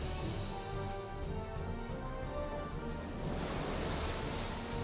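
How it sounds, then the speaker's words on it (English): The sea roars in the visual novel game Umineko, a dense, steady wash of surf and ocean noise that swells slightly toward the end, loud and continuous with no voices. "It was the roar of the sea."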